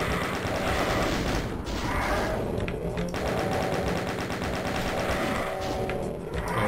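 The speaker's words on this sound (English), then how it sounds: "Many shells left, so let's try the chain gun for it." A chain gun fires in Doom's Plutonia Experiment, a loud, continuous, rapid rattle of shots that runs without a break through the whole stretch, with no voices.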